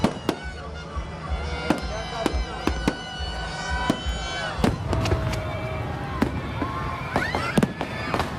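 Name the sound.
fireworks display celebrating Pakistan Independence Day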